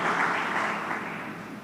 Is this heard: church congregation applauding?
yes